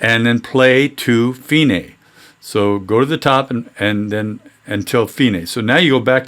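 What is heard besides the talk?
None of the usual background noises is heard.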